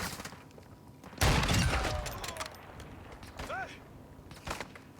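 Enemy gunfire in the video game Modern Warfare II: a sudden loud burst of shots around the one-second mark that decays slowly, followed by scattered fainter pops and thuds against low background game noise.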